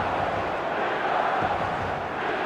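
Stadium crowd in the eFootball 2026 video game, a steady broad roar of cheering that holds at an even loudness throughout, with a few indistinct shouts rising out of the mass.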